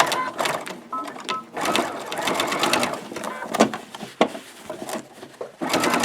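Sewing machine stitching the flap of a fabric box, a dense steady mechanical whir with rapid needle ticks running almost continuously, near and loud, with brief pauses and restarts.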